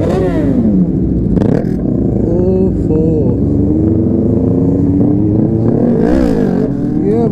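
A Suzuki Hayabusa superbike engine revs loud and close, its pitch climbing and falling in sweeping runs with sharper bursts of throttle near the start and end, a steady rumbling roar under it throughout.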